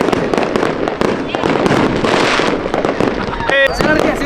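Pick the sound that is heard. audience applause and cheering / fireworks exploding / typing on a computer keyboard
fireworks exploding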